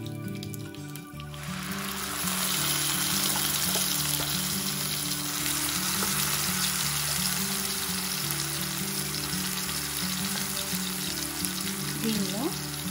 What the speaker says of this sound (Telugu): దీనిలో ఇప్పుడు గ్రైండ్ చేసుకున్న వెల్లుల్లి పేస్ట్ వేసుకుందాం.